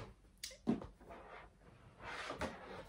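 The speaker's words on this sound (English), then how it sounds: "I'm just going to go and put them in into the drawer" A dresser drawer in a bedroom closet being opened or shut during decluttering, with a few soft knocks and a brief scrape at moderate volume amid light handling noise.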